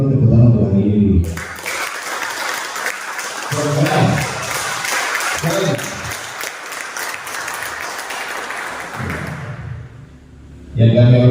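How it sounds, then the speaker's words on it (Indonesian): Loud applause from a gathered crowd at an inauguration ceremony for newly sworn-in members of a Merah Putih organisation chapter in South Minahasa, bursting in after a spoken announcement, sustained for about eight seconds and fading before the speaker resumes. "tepuk tangan untuk hari ini dulu"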